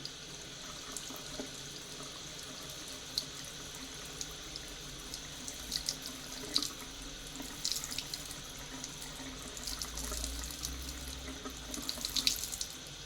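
Hot water running steadily from a tap into a sink, a continuous close hiss and rush of water with occasional brief clatters on top, no voices.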